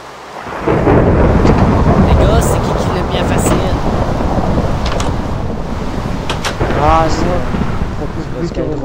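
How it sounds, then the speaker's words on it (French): A Minecraft thunderstorm rolls in with a loud rumbling thunderclap and steady rain. Someone speaks briefly underneath the storm. "C'est qui a placé les orages?"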